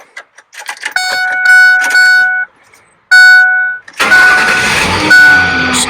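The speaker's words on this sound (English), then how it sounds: "Let's get her started up." A Ford F-150 work truck being started: a few clicks, then a chiming tone repeating in two stretches, and a loud engine crank catching into a rough running idle close by.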